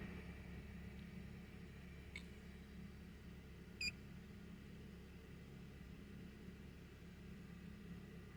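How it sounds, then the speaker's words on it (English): A Honda Accord engine idles smoothly after a misfire repair for cylinders one to four, giving a faint, steady low rumble with a couple of brief, soft electronic beeps partway through. "The car is running so smoothly right now, very smooth, not shaking, nothing, and no misfire at all."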